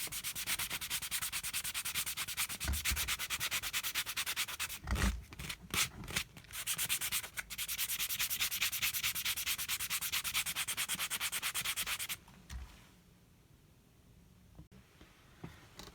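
Fast, steady rasping of sandpaper rubbed back and forth over a punctured rubber inner tube during repair, pausing briefly midway, then fading into quiet handling noise near the end.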